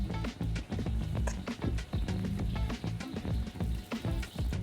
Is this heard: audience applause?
no